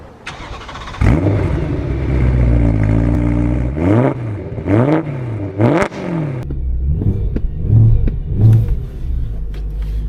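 A car engine revs hard inside a garage: a starting roar, then several loud rising-and-falling revs in quick succession, followed by a burbling idle broken by shorter blips of throttle, close and with no talk.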